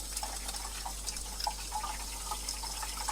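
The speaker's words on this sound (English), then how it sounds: "it's water going down in the oil pan. It's the bottom of the oil pan." Water trickles and drips onto the hot bottom of a Ford F-250 truck's oil pan, a faint, steady wet sizzle with scattered soft drips throughout.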